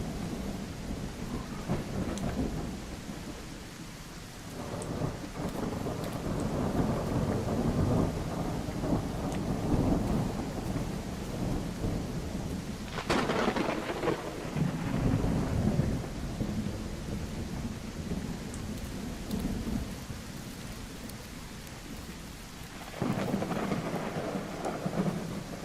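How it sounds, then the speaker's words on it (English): Thunderstorm with heavy rain in the dinosaur survival game The Isle: a continuous rain hiss broken by several loud rumbling thunder rolls and sharp cracks, with no talking. "It's very hard to hear anything with the storm."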